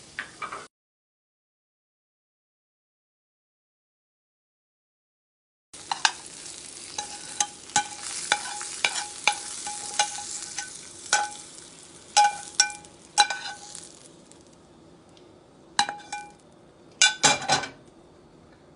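Mushrooms and green beans sautéing in a pan: after a silent gap, a soft steady sizzle carries sharp clicks and scrapes of a utensil on the pan, close and moderately loud, with no talk.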